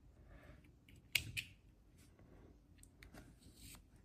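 A single quiet snip of scissors cutting crochet yarn after a puffy flower is finished, a short sharp click close by, followed by faint handling rustle.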